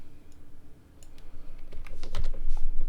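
Someone types on a computer keyboard nearby in quick, uneven bursts of clicking keystrokes that grow busier and louder toward the end.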